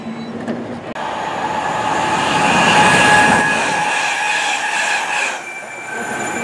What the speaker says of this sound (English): going through there was 350-377 to Birmingham New Street via Northampton